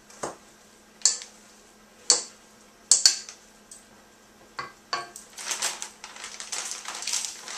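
A spoon folds pineapple mixture for Dole Whip in a bowl, giving a few separate clinks and scrapes at first, then a denser run of scraping, stirring sounds close up with no talk.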